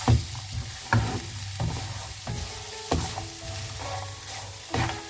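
Kolhapuri mutton kharda being mixed with garam masala in a frying pan, with close, regular spatula scrapes about once a second over a continuous low sizzle.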